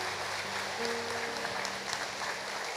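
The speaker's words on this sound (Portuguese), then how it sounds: "Uma salva de palmas a Jesus Cristo." Church congregation applauding during a family service, a steady, moderately distant wash of clapping with faint low hum underneath throughout.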